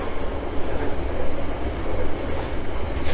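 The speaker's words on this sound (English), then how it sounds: "Freight train." A heavy freight train rolls by close at hand at Battyeford, Leeds, a loud sustained rumble with wagons clattering along the track.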